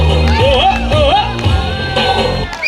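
A crowd at a sangeet wedding celebration cheers and whoops loudly, with excited shouts and voices overlapping in a close, boisterous burst.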